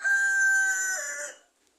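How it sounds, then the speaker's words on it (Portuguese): A rooster crows once, a single drawn-out call lasting over a second that rises and then trails off into quiet, clear and on its own. "Que galo chato, peraí"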